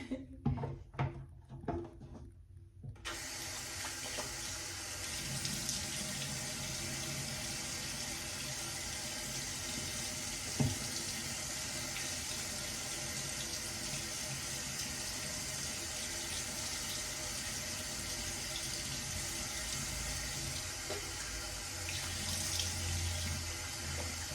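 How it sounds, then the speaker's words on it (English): Water runs steadily from a tap during face washing in a skincare routine, a continuous close hiss and splash that starts after a few seconds of quiet with light handling noises. "So I'm going to wash my face with this."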